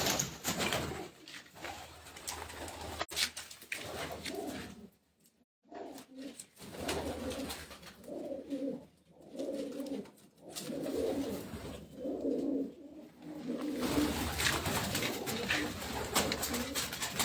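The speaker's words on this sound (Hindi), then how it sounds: "टुकड़ी वाले और कासिद कबूतर जी ये भी हैं यहाँ पर मौजूद सेल पॉइंट में" Pigeons coo repeatedly in soft, throaty rolling calls at a pigeon club in Mianwali, several birds overlapping nearby, with light rustling and background noise throughout.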